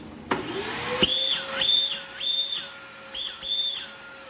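A bagged vacuum cleaner motor spins up and runs with a shrill, piercing whistle like a smoke detector that rises and cuts out in repeated bursts, loud and close.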